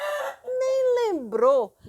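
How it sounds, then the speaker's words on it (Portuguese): An early morning rooster gives one loud, close crow, a short opening note followed by a long drawn call with a falling, wavering end. "logo com o canto do galo cedinho"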